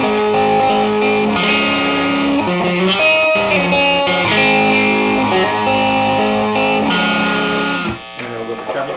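Electric guitar with P90 pickups switched to the middle position, tone controls up and both channels at full volume, playing a loud, continuous run of sustained distorted chords and notes that thins out briefly near the end.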